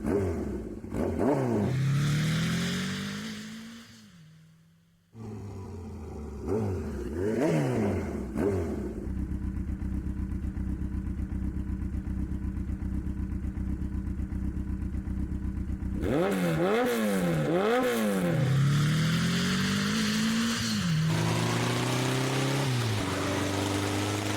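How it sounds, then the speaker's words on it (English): Motorcycle engine from the video game Tomb Raider 1 Remastered, ridden across the desert, revving up and down repeatedly in loud rising and falling sweeps, with a long steady droning hold in the middle and no talking. "That's how you ride a motorcycle in the desert."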